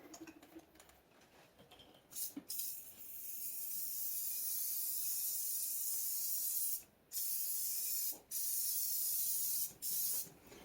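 Tire cleaner sprayed onto a boat trailer or wakeboat tire, a loud close hiss held for several seconds, then broken into short bursts with brief pauses, no voices.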